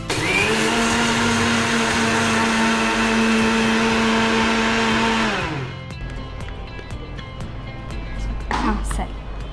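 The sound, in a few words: mixer grinder grinding sugar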